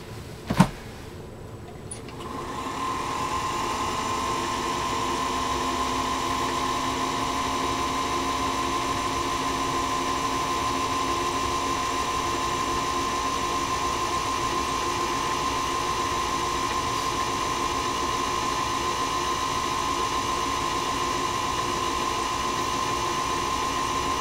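A Singer Featherweight 221 sewing machine motor starts after a sharp click and then runs continuously with a steady, loud electric whine and hum that holds unchanged to the end, with no talking.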